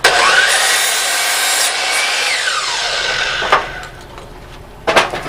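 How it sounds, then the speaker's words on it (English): A saw trims the end off a lumber board for a rack, loud and steady broadband cutting noise for about three seconds that winds down, then a couple of brief knocks of wood afterward. "I'm going to trim one end."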